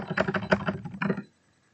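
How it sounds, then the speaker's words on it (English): Computer keyboard keys being typed on in a quick, uneven burst of close, crisp clicks and taps lasting about a second, then stopping abruptly into near silence. "I do like the clicking of the keyboard though."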